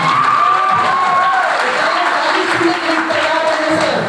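Audience applause fills a motivational talk hall, a dense, continuous patter of clapping with some voices mixed through it.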